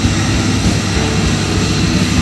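Avenger PLUS CNC multifunction machine milling weld prep on steel beam flanges with a three-insert carbide cutter, a dense, continuous roaring grind that stays loud and steady throughout.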